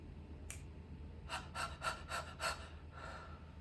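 Quick rhythmic panting in a soprano singing lesson breathing exercise, a run of about five short breathy puffs close to the microphone, faint and unvoiced against low room noise.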